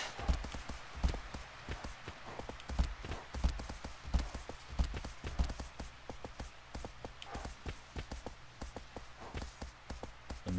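Horse hooves in the video game Shadow of the Colossus clop in a steady, continuous rhythm, fairly close but soft, over quiet ambient background.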